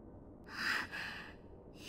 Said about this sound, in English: Thank goodness she's still breathing.